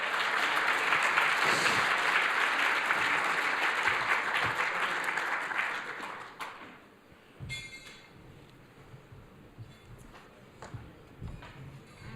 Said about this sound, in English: Give them all a round of applause as they come on forward.